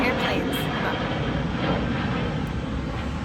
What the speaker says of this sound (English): I cannot control the airplanes.